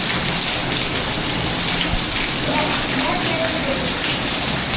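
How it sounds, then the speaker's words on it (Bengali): Heavy rain pours down in front of a house in Gazipur, a dense, loud, continuous roar of water hitting surfaces that stays steady throughout, with no breaks. "আপনারা দেখতে পাচ্ছেন কি লেভেলের বৃষ্টি গাজীপুরে বর্তমানে দেখা যাচ্ছে আমার বাসার সামনে"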